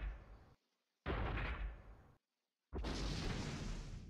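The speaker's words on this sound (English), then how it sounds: "The explosion was so powerful it broke my computer." Explosion in the video game Titan Genesis: loud, dense broadband roars that cut out abruptly into silent gaps and resume, like stuttering bursts of blast noise.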